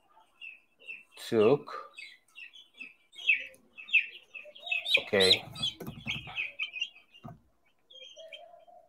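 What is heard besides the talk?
broiler chicks chirping in a crate during weighing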